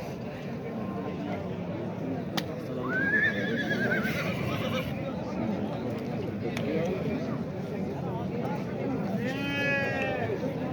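Sheep at a sheep market let out two clear bleats, one early and one near the end, over a steady background of crowd chatter and livestock noise.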